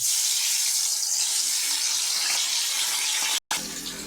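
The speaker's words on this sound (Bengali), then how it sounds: "এখন মাছগুলো ভেজে নেব" Fish rubbed with salt and turmeric frying in oil in a wok, a steady dense sizzle with a bright hiss throughout, close and fairly loud, broken once by a brief instant of silence near the end.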